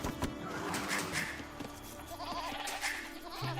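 Sheep in the video game Age of Empires II bleat a few times at moderate volume over a steady background of game ambience.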